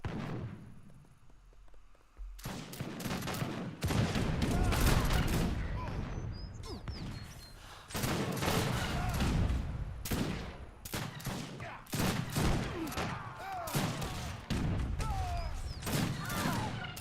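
Artillery and massed musket fire in the strategy game Age of Empires 3, loud repeated volleys and booms arriving in bursts, with short gaps and a brief quiet opening before the barrage starts.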